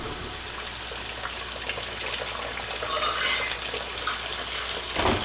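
Water rushes steadily into a washing machine on a delicate laundry cycle, a constant hissing gush with splashing texture for about five seconds.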